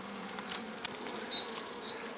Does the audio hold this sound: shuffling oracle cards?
no